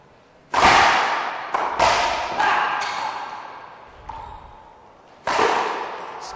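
Racquetball shots in a 2011 US Open quarterfinal pro match: four loud, sharp ball impacts off the court walls, each followed by a ringing decay in the enclosed court, with no talk.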